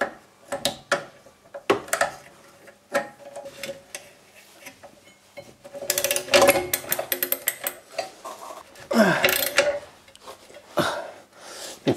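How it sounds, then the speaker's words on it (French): A ratchet on an XZN M12 extension and 18 mm socket tightens a stabilizer link on a 2006 Mercedes C200 CDI, making close, sharp clicking in short bursts with pauses and metallic clatter between. "j'ai pris une rallonge XZN M12 et je vais serrer ma biellette"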